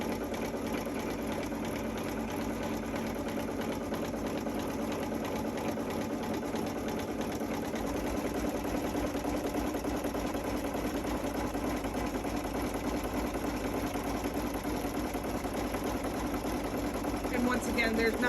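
Sewing machine stitching lines down through fabric, running steadily and continuously at close range for the whole stretch, its motor whirring with a constant mechanical buzz.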